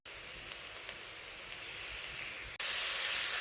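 A steady sizzling hiss of ground chili paste frying in a hot pan, with a few soft clinks and a louder burst of sizzle near the end.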